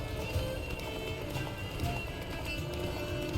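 Geralt's horse Roach galloping in The Witcher 3 video game, a steady run of rapid hoofbeats close by that carries on without a break.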